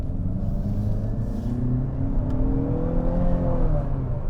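A 2021 Nissan Altima VC Turbo drives over rough bumps, a loud steady cabin rumble of engine and road noise with a slight rise in engine tone, and no speech.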